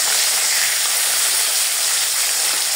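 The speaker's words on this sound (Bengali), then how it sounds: "বন্ধুরা, আমার মাছ ভাজা হয়ে গেছে প্রায়।" Hilsa fish pieces fry in oil with a loud, continuous hiss, a bright even sizzle that stays steady and close throughout with no pauses or voices.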